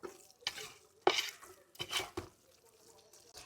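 Spoon stirring beef biryani masala with coriander and mint leaves in a pot, a few soft scraping and clinking strokes, quiet and close, with light sizzling underneath.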